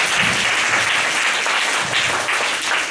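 An indoor audience applauds a speaker being introduced at a church discussion event, with steady clapping from many hands lasting a few seconds.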